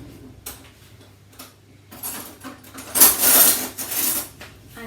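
Metal baking tray and spoon handled in a home kitchen while making malt cookies: light clicks and taps, then a louder rattling clatter of metal against a hard surface, close and without talk.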